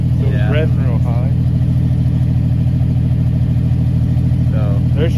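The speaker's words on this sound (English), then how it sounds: "it was revving real high." A Jeep Cherokee engine, with its cruise control stuck on, revs high in a loud, unbroken drone close to the microphone, and voices talk over it.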